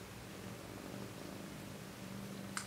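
Cat named Ella purring, a soft continuous low rumbling purr held steadily and close, faint and alone.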